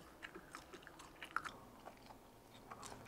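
Close, quiet chewing of crispy fried squid and fried fish cake, with soft crunches and bites repeating irregularly.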